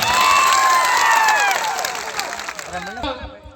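A political rally crowd breaks into applause and cheering, a dense, loud wash of clapping that holds steady and then thins out toward the end.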